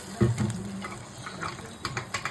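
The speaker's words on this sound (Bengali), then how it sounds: "এবার যতটা ঝোল চান আপনি ততটা জল দেবেন" Water is poured into a simmering pan of chhana bora curry, a brief, quiet trickle and splash with faint clinks in a home kitchen.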